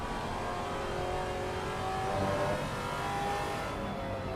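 GT4 race car engine in Assetto Corsa Competizione at Brands Hatch, droning steadily and loud as the driver eases off the throttle, the tone sagging slightly near the end.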